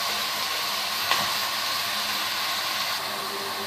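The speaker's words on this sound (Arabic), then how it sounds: "هفضل اقلب فيها كده لحد ما تفك من بعضها خالص اللحم مع البصله كده" Minced meat and onion sizzle steadily in a pan while being stirred, making a constant hissing fry with a faint scrape partway through and no talking.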